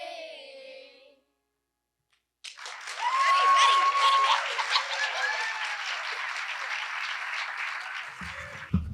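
Sustained applause from a crowd at a county address bursts in after a brief silence, dense clapping with a few whistles and cheers, continuing loudly for several seconds.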